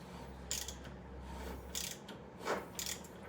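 A socket ratchet clicks in a few short bursts while turning a bolt on the engine of a 2003 Craftsman LT2000 lawn tractor, close and fairly quiet against a faint background hum.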